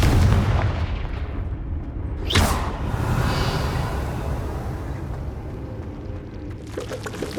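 Confringo spell exploding in Hogwarts Legacy, set in a spider cavern: a sharp burst cracks out mid-clip over a steady rumbling din, followed by a long roaring tail and scattered crackles.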